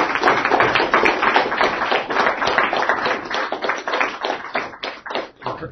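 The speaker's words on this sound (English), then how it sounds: "Fergus is very confused by the fact that you're clapping." Students applauding at the close of a classical mechanics review lecture: dense, steady clapping from a full room, loud and sustained throughout, fading slightly toward the end.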